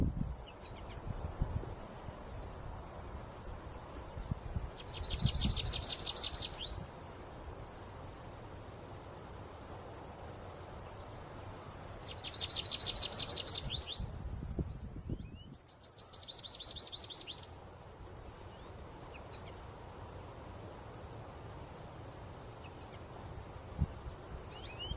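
A goldfinch sings in short bursts of bright, high twittering, three separate phrases spread over the stretch, set against steady outdoor hiss and low rustle, with no voices.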